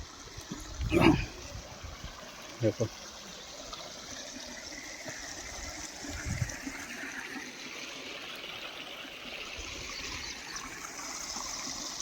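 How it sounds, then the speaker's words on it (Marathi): Water rushes continuously from a burst pipeline after heavy rain in fields near Ghansawangi, Jalna, in a broad steady hiss, with a few brief louder thumps near the start; no voices. "इतकं पाणी चालू आहे मित्रांनो इथंही फुटलंय"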